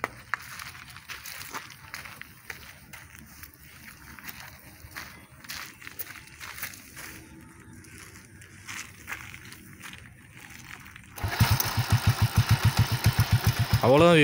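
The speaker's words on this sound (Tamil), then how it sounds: "டூ வீலர் இப்போ ஸ்டார்ட் ஆயிடுச்சு" Two-wheeler motorcycle engine starting after quiet handling noises and clicks, then settling into a loud, rhythmic, close idle thumping for the final few seconds.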